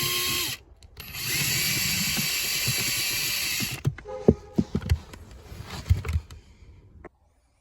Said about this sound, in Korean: 이런 식으로 볼트 3개를 모두 풀어줍니다.